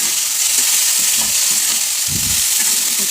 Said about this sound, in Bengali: হালকা হালকা আঁচে ভাজছি, সুন্দর হচ্ছে।